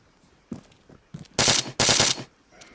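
Gunfire in the military shooter Arma 3: a few scattered shots, then two loud sustained bursts of rapid automatic fire close up, with short gaps between them.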